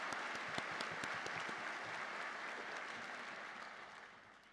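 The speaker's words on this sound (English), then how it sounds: "A round of applause, please, for Professor Emeritus Hank McGee and Professor Emerita Julie Shapiro." Sustained applause from the audience at a law school commencement ceremony at Seattle University, a dense, even clapping that fills the hall and slowly fades toward the end.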